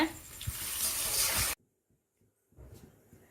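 Tamarind extract poured into a fish gravy of kuravai fish: a close, steady liquid splashing and gurgling runs for about a second and a half, then stops abruptly, followed by faint clinks and soft kitchen noise.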